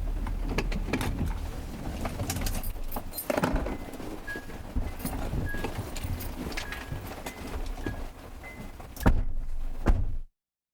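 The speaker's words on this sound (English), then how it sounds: "was that just the sound of a car beeping when the door was open?" A car door-open warning chime beeps in a steady repeating pattern, heard at moderate level amid clattering, mechanical background noise and movement before the sound cuts off abruptly.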